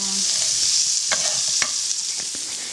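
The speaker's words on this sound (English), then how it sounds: "So I'm going to stir this around and get that garlic spread out." Pork and garlic stirred while frying in a pan, a loud continuous hiss of sizzling fat with a few brief scraping clicks from the stirring, close up.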